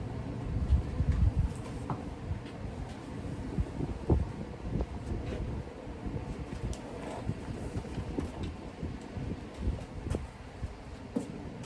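Steady outdoor wind rumbling and buffeting across a microphone throughout, with low-frequency gusts and no clear speech, during a horse bodywork session.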